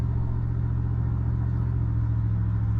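A Buick car driven on the open road with no windshield produces a steady, loud, low engine and road rumble with constant wind noise, unbroken throughout, with no talking.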